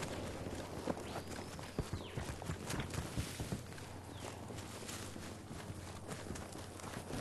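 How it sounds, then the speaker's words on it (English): Footsteps patter in Battlefield 2042, a run of irregular soft thuds and clicks over low ambient hum, fairly close and steady throughout without any voices. "I hear footsteps."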